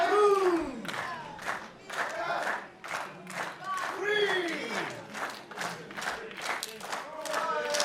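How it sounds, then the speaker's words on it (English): Live wrestling crowd at the Richard Price Center cheering and rallying behind the champion during an Outbreak title match, a loud, continuous roar of voices and clapping with rhythmic chanting surges throughout. "The crowd willing on the champion."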